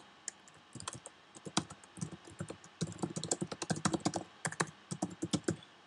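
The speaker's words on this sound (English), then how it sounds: "Then as you can see, I can just type in some information there." Typing on a computer keyboard while building a basic website page, a steady run of close, crisp key clicks in quick irregular bursts with brief pauses, no voices.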